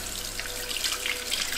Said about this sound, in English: I think we have to add water all the way up to this line now.